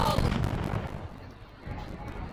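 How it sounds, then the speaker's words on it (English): An elite elf unit in Totally Accurate Battle Simulator fires a rapid volley of rockets, producing a dense cluster of booming pops and bursts that taper off and then pick up again, fairly loud and close. "He can shoot a ton of rockets."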